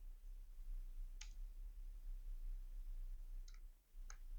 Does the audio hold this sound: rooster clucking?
no